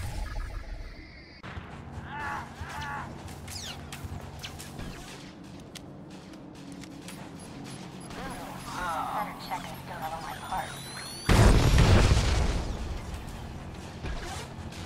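Called-in strike explosions in Star Wars: The Old Republic crash out as one loud, heavy blast near the end. Earlier the game's mixed mechanical and combat sounds play at a moderate level.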